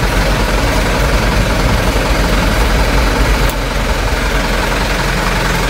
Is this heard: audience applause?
no